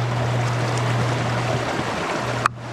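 A strong river current rushes steadily nearby with a low hum underneath, and a single brief knock comes just before the end.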